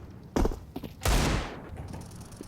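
Gunfire in a Counter-Strike pro match: two sharp, loud shots about half a second apart, the second heavier with a lingering tail, followed by faint scattered game noise.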